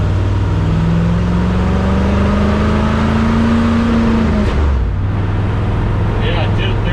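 An old Chevelle that sat unused for decades revs its engine on the road, a loud steady drone that rises in pitch, then drops off abruptly as the motor cuts out and picks back up.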